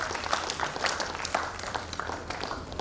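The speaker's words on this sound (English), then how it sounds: "Another round of applause for him." Conference audience at the COSPRA Summit 2023 applauding, scattered clapping at moderate distance with a steady, uneven patter throughout.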